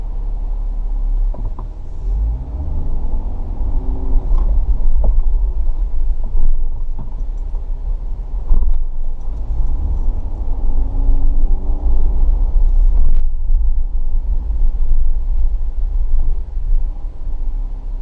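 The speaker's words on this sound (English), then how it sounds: "wait for traffic to clear and squeeze out a U-turn." A car idles in traffic and then pulls out into a U-turn, giving a loud steady engine rumble with mechanical clunks and some swells as it moves off.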